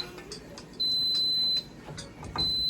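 A kitchen smoke alarm sounding while chicken feet cook in a pot, giving long steady high-pitched beeps with a short gap between them over a low room hum.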